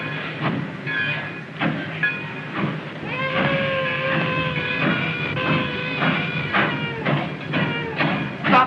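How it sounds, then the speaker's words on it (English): A passenger train runs on rails in a 1932 film scene, a steady rumbling roll with repeated rhythmic clacks and squealing tonal bursts, fairly loud and continuous, with no talk over it. "Stop the train immediately."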